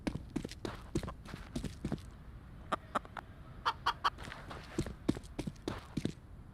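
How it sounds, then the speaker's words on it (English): Chickens in Counter-Strike: Global Offensive cluck in quick, uneven bursts, mixed with soft footsteps and faint game sounds, at a moderate distance. "If you approach a chicken that can be found on many of the game's maps and press the E key"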